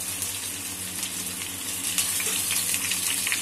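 Taro root (arbi) pieces frying in oil over high heat, a steady dense sizzle with crackling throughout, moderately close and without speech.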